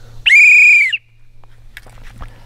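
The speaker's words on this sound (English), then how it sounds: "buy the best whistle you can and use it" A loud, piercing blast from a survival whistle used as a rescue signal, one sustained tone lasting under a second, followed by quiet background with faint small noises.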